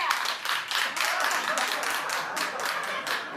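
A small group claps in a quick, uneven patter for a few seconds, fairly close, with no one talking over it.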